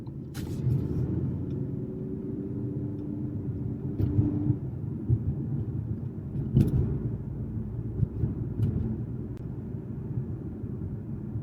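A car drives along winding Laurel Canyon road in Los Angeles, its steady engine rumble and tyre noise filling the cabin, with occasional bumps and light knocks.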